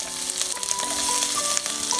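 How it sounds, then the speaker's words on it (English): Garlic sautés in hot oil, together with ginger and shallots, giving a loud, continuous crackling sizzle. A few faint clinks rise and fade over it, and no voices are heard. "now we're going to saute our spices."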